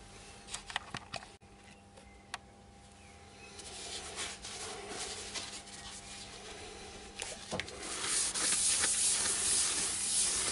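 Soft hissing and rubbing sounds of sanding sealant being applied to a small turned wooden bowl, growing louder and denser toward the end, with a few sharp clicks.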